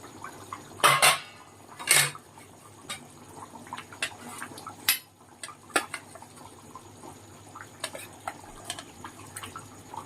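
A lid is set down on a pot of duck egg curry, with a couple of distinct metallic clanks near the start. Quieter kitchen clatter and faint simmering follow.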